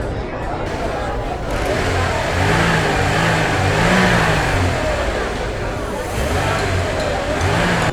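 An old, beat-up car drives off toward the city, its engine revving steadily and loudly with rising and falling pitch, mixed with a busy background murmur.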